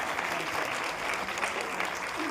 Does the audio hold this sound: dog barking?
no